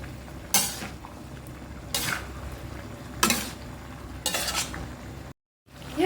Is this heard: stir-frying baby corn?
yes